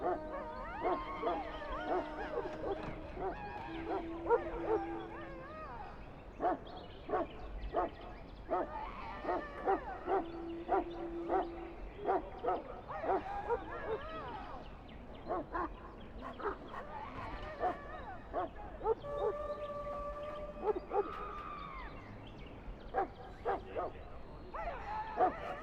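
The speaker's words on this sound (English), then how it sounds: "I fear your hound has the kitchens in uproar once again" Mabari war hound in the Dragon Age: Origins video game, barking repeatedly in short bursts with whimpers and yips over about twenty-five seconds, moderately loud and close over quiet game ambience.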